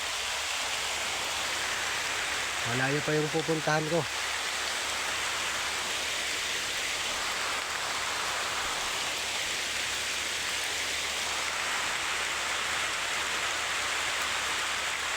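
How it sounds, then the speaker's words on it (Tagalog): Heavy rain pours steadily as a dense, even wash of noise. Someone speaks briefly near the start, then the downpour runs on alone. "Nako po, hindi titigil yung ulan."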